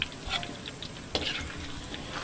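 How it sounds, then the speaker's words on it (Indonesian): Chili peppers frying in a pan at an outdoor garden cookout, giving a steady close sizzle with scattered crackles and a few stirring scrapes, with no talk. "Kita proses goreng cabai dulu."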